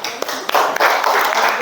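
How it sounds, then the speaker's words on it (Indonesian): Students clapping for presenters in a classroom, a brief burst of hand claps that starts with a few separate claps and then thickens, with voices mixed in. "Tepuk tangan Ilona and Malkoro."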